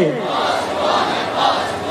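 A rally crowd protecting the Quran's honour shouts a slogan back in unison, a dense, loud roar of many voices sustained across the moment with swelling peaks.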